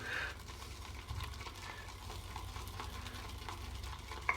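Soft, wet squelching and swishing as a boar-bristle shaving brush whips lather around in a bowl, steady and close, with no talking.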